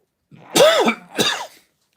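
Two quick, dry coughs close by, a louder one followed by a shorter second, then silence.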